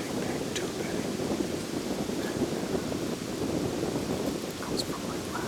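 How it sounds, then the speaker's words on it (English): Steady breeze blowing outdoors on a morning deer hunt in the Michigan woods, a continuous broadband rush with faint rustling, unbroken and fairly loud throughout, with no talking. "It's breezy this morning."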